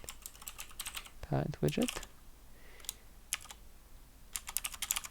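Rapid bursts of computer keyboard clicks, close and crisp, come in clusters at the start and end, with a short spoken phrase in the middle.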